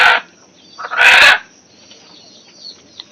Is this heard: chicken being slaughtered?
yes